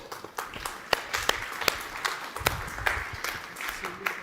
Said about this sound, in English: A big round of applause for the Minister.